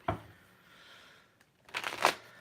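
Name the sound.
shuffling tarot cards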